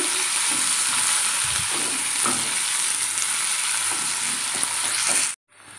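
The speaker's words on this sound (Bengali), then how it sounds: "এবার পেঁয়াজটা দিয়ে দেবো। পেঁয়াজটা ভালোভাবে ভাজতে হবে।" Onions sizzle steadily in hot oil with whole cumin in a pan, a continuous close frying hiss with faint stirring, cutting off abruptly at the end.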